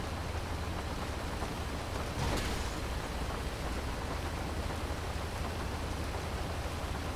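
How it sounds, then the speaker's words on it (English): Steady rain falling outside a car during a police traffic stop, a constant dense hiss throughout, fairly loud and unbroken, with no voices. "And now it's raining."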